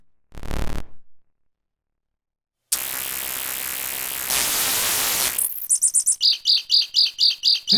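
A chirping synth loop built from a loon call sample plays as a rapid string of bright, repeating tweet-like pulses, following a short low thump and a burst of noisy static.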